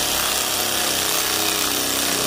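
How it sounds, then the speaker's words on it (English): A socket driver tightens a nut on a snowblower chute, giving a loud, continuous whirring drone that stays level for the whole moment, close by and without any voices. "Now what you can do is simply tighten up the nut."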